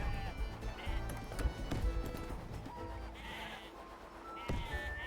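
Sheep bleat in a Wanderbots-style video game amid busy game sound effects and music, a few bleats rising near and loud over a dense, steady mix.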